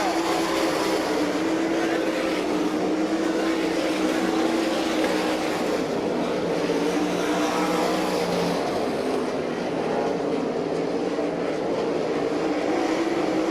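Sprint cars race on a dirt oval at Abbottstown, Pennsylvania, an All Star Circuit of Champions event in 1999, their engines a continuous loud roar blending together, close by and with no letup, under a faint crowd murmur.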